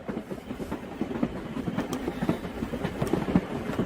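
Passenger train carriage running on rails, a steady rolling rumble with rhythmic clickety-clack from inside the coach, moderately loud and continuous, with no talk.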